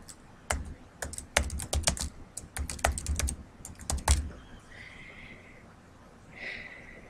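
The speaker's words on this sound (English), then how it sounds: "And now I'm going to type my title, which is" Keys clatter on a computer keyboard as a title is typed in capital letters, quick irregular clicks in short bursts, followed by quieter clicking toward the end.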